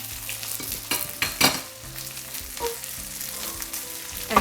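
Fish fillets frying in lemon butter in a pan, a close, bright crackling sizzle with sharper bursts and clinks as the fish is flipped and moved, no talking.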